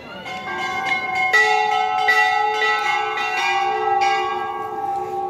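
Temple bells in Nainital ringing loud and close, several overlapping metallic strikes with long shimmering tones that sustain and blend together.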